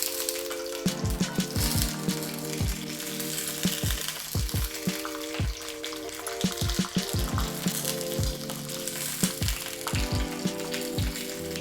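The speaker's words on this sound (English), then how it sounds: "Now that the peppers have cooked for a little bit, we're now going to turn them to fry the other side." Stuffed peppers frying in oil in a pan, a steady close sizzle and crackle with repeated sharp pops and spatters throughout, no voices.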